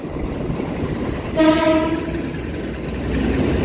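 A Saung Galih passenger train rumbles past a station with clattering wheels while its horn sounds one short, loud blast partway through.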